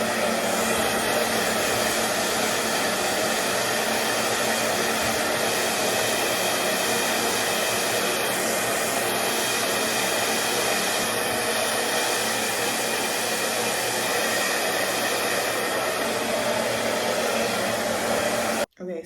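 A handheld hair dryer blows continuously to dry hair during a wash day for a protective hairstyle, producing a loud, steady close-up roar with a few slight wavers before it cuts off abruptly at the end.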